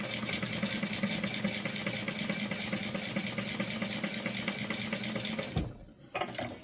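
Sewing machine stitching fabric for a wallet, a steady rapid mechanical whir running continuously for several seconds before stopping abruptly, followed by a brief faint clatter.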